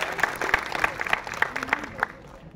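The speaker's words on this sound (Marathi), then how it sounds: "आपल्याच कलावंतांसाठी जरा जोरदार टाळ्या झाल्या" Audience applause for the performing artists at a community unity ceremony in Maharashtra, a steady patter of many hands clapping at moderate volume, slightly distant, with individual claps popping out as it continues.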